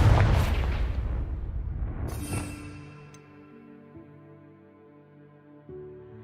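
The Confringo explosive spell from Hogwarts Legacy goes off as a loud, close blast with a crackling burst. It fades into a sustained ringing, magical hum with a faint later chime.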